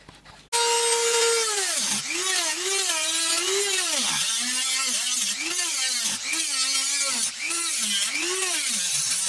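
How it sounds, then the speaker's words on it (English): A Dremel rotary tool grinds into a crack in a wooden hollow form, a loud, steady whine that rises and dips as the bit bites into the wood, continuous and close after a brief quiet start. "This crack is just getting worse, so I'm going to open it up with a Dremel a bit"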